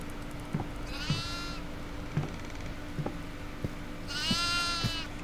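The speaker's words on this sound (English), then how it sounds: "Do we gotta follow that goat? Come here, goat. Let's follow this goat." Goats bleating in the horror video game Devour, two wavering bleats separated by a pause, over repeated hollow footstep-like knocks and a steady low hum.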